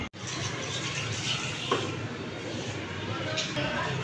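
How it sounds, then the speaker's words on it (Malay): Water pouring steadily from a bathroom tap, a continuous near rush of flow that holds at an even level throughout, with faint voices mixed underneath. "Tutup bilik air, jangan biarkan air mengalir"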